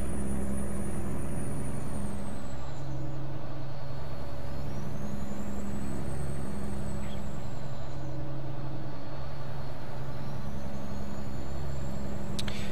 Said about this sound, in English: I'm pretty sure the sounds on this truck are from a mod